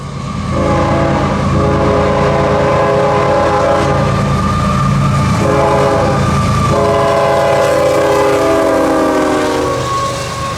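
A CSX freight train, Q031, led by GEVO locomotives in a 1x1 setup, rumbles past loudly and close. Its multi-tone air horn sounds in long, repeated blasts over steady wheel and engine noise.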